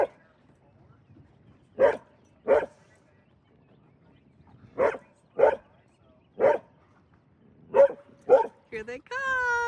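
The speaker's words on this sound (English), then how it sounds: "I think the dolphins are coming to see her because she's barking at them." A dog barks at dolphins from a boat in short, separate bursts with pauses between them, about eight barks, ending in a drawn-out whine.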